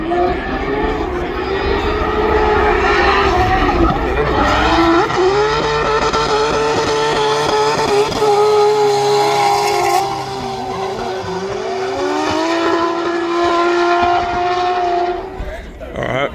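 Night drifting at a World Time Attack event: loud, wavering tyre squeals and a high engine whine rise and dip as cars slide past close by, with brief voices underneath.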